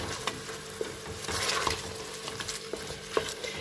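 Garlic fries slowly in oil in a pot for a Tunisian rabbit stew, a soft, steady sizzle with a few light scrapes and stirring taps scattered through it, close and fairly quiet.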